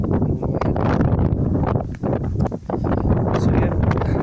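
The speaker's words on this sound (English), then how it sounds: "So yeah, it's very windy" Strong wind on a hillside above a harbour buffets the microphone in loud, continuous roaring gusts with brief lulls.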